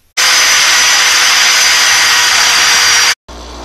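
A power tool cuts through a 1-inch piece of 7/16-inch round metal stock, giving a loud, steady high-pitched whine for about three seconds before stopping abruptly and briefly resuming.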